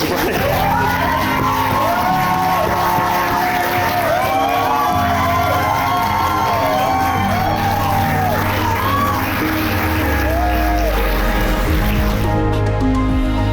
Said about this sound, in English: So please join me in giving her the loudest round of applause of the day.